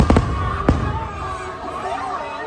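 Fireworks bursting over Mickey's Not-So-Scary Halloween Party at Disney, a few sharp booms up front over a constant crowd murmur that carries on after the bangs.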